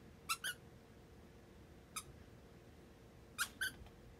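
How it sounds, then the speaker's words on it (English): A squeaky banana-shaped pet toy gives four short, high squeaks: two quick squeezes together, a single squeak a moment later, then another close pair, all fairly faint against a quiet room. "Where's the squeaky thing?"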